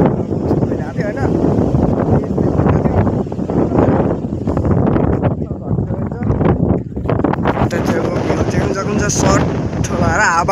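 Strong outdoor wind buffets the microphone in a constant low, roaring rumble, with voices talking underneath throughout.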